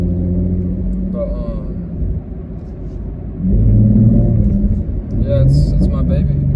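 A car's engine rumbles low and steady while cruising through heavy mall traffic at the Mall of Georgia, swelling louder partway through, with someone talking over it.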